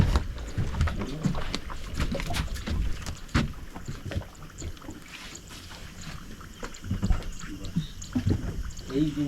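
A six-seater boat on the Mahanadi river, with water and wind noise in the background and a few knocks and bumps. People talk throughout.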